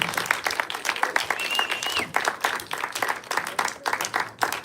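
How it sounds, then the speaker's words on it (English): Scattered audience applause as a performer walks to the stage at a live show, individual claps clearly separate and uneven in rhythm, moderately close, with a few faint whoops mixed in. "please give it up for Ekua, all the way to the stage"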